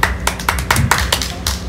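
Hands clapping in a Haitian theatre troupe's stage performance, a run of sharp, uneven claps spaced roughly a fifth of a second apart, close and fairly loud, with no talk over them.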